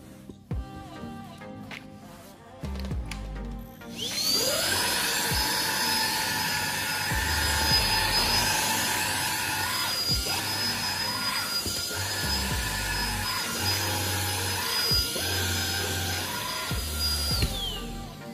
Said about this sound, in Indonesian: Kita coba vakum lagi.